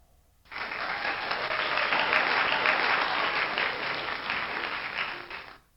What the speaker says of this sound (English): So the first one is applause, and let's go ahead and preview.